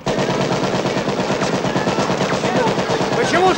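Machine gun fire in an action war film comes as loud, rapid, continuous bursts that fill the whole stretch, with faint shouting voices mixed into the barrage.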